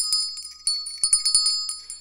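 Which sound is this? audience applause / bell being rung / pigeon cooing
bell being rung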